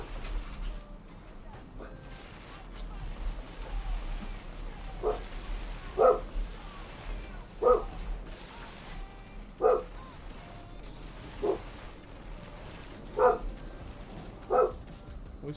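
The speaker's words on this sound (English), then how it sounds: "Stop barking!" A dog barks in short, separate bursts spaced a second or two apart over a low, steady background hum, with faint voices now and then.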